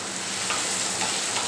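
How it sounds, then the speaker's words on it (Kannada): Bitter gourd sizzles in hot oil with a spice tempering, a dense, steady, close frying crackle with no voices. "ಒಗ್ಗರಣೆಲ್ಲೂ ಹಾಗಲಕಾಯಿ ಒಂದು ಸಲ ಫ್ರೈ ಮಾಡ್ಕೊತೀನಿ."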